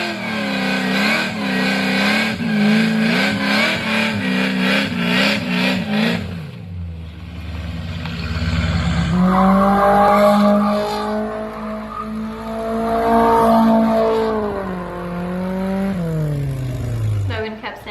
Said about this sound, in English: We just literally got the clips from the little burnout and donuts from the 2 cars.